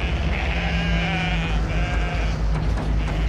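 Sheep bleating loudly nearby, several overlapping calls over a steady low rumble.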